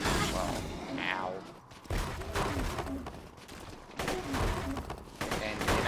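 Gunfire in the Borderlands 2 game comes in bursts of loud, close shots with sharp cracks and thumping impacts, broken by brief pauses, while someone talks over the shooting.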